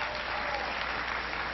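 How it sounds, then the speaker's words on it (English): Crowd applause at a high school event where President Barack Obama speaks, a steady dense clapping that fills the space evenly, loud and unbroken throughout, with no talk over it. "Give them a big round of applause."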